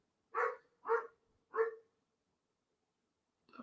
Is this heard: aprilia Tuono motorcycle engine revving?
no